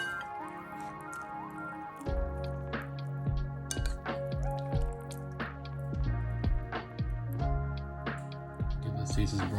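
Venison soup in a pot, seasoned with chilies, fish sauce, lemon and green onions, is stirred with wet squishing and dripping sounds and light knocks against the pot over a steady low simmer, close and moderately loud.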